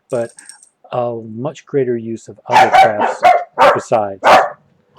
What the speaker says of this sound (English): I do apologize for the dogs barking at the cats